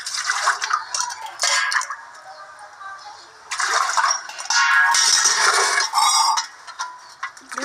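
Water pours and splashes in several uneven bursts, loud gushes broken by quieter gaps and a few faint drips, heard up close.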